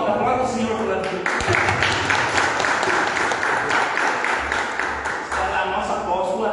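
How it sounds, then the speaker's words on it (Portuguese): A church congregation claps along steadily while a voice speaks over the clapping, the applause continuous and moderately loud throughout. "Aplauda o Senhor pela vida"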